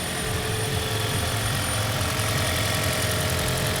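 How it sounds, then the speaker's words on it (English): A Toyota Prius on the first start of a newly fitted engine, idling smoothly with a steady mid-pitched hum and a faint regular pulse, close and constant throughout with no voices. "The first start of the Prius with the new engine that the customer brought me."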